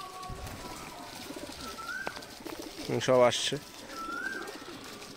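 Pigeons gathering at feeding time at a home loft give soft repeated coos, with a brief flutter of wings mid-clip, under someone speaking.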